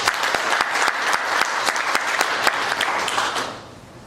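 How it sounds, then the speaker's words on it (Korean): An audience applauds at the close of a presentation at a university workshop, a dense burst of clapping that holds steady, then fades out near the end. "여러분께 제가 박수를 드리면서 마치도록 하겠습니다."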